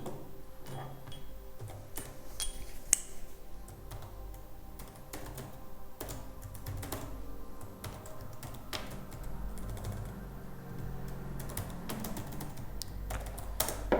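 Code being typed on a computer keyboard, a continuous patter of close, fairly soft key clicks with uneven rhythm under a low background hum, no talking.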